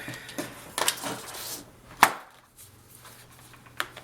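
Scrapbooking paper sheets are cut to length with a few sharp snipping and thudding cuts, a cluster of crisp bursts followed by quieter single strikes, close and fairly faint.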